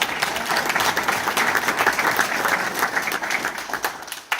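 A hall of fame ceremony audience gives a full round of applause, dense and sustained clapping filling the hall for several seconds.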